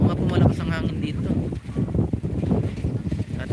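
Strong wind buffets the microphone outdoors in a rural area, rumbling in heavy low gusts that rise and dip, with voices talking over it.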